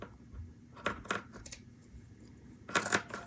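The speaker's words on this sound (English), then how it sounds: "Now I'm actually going to cut this out, but I'm going to fray the ends." Scissors cutting fabric for a DIY tag: a few crisp, quiet snips come in quick succession, then a short pause before a final brief flurry of cuts, with no talking.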